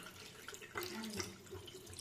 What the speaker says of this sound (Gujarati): આની અંદર ખાટાપણું ના રહે એટલા માટે આપણે એને આ રીતે ધોઈ નાખીએ.